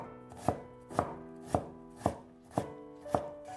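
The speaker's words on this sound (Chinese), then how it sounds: "最后切成小丁" A knife dices an onion into small cubes on a cutting board in six evenly spaced, crisp thuds about half a second apart, close and clear with no talk.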